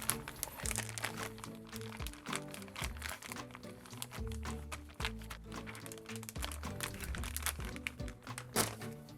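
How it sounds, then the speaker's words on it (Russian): A plastic bag crinkles and crackles continuously up close as a piece of pork belly is slid inside for vacuum sealing, with background music playing underneath. "Берем пакет и отправляем туда грудинку."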